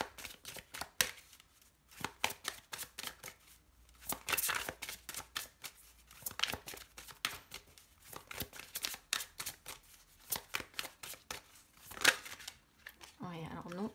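Oracle cards shuffled by hand for a reading, making a steady, close stream of papery riffling and slapping bursts in uneven clusters, with someone speaking French over parts of it.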